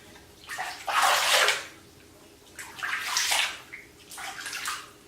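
Water splashed onto a face while rinsing in a bath, three sloshing bursts of scooped water with short quiet gaps between them, close and fairly soft, no talking.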